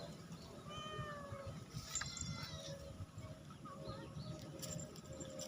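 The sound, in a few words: cat meowing while climbing down in the garden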